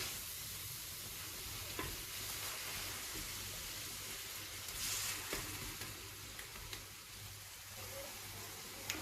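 Two tomatoes frying in a paella pan, a steady close sizzle and crackle with occasional stirring clicks and scrapes throughout, no talking.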